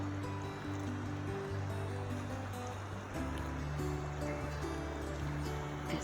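A river flows right beside a campsite at Burroughs Ford Camp on the Foothills Trail, giving a steady, loud rushing wash of water with no break and no voices.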